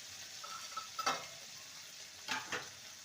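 Jackfruit sautéing with turmeric, chilli, cumin and coriander powders in a pan, with a quiet, steady sizzle broken by a few soft spatula scrapes and taps.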